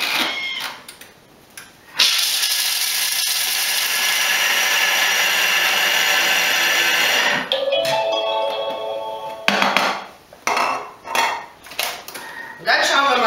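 A Thermomix TM5 blitzes nuts at speed 10, a loud steady high whir for about five seconds, then clattering and rattling as the bowl settles and is handled.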